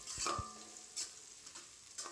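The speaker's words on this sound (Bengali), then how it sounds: "তো পেঁয়াজটা একটু ভেজে নিচ্ছি।" Chopped onions fry in oil in a pan, giving a faint sizzle with a few soft scrapes and knocks of stirring, quiet and close.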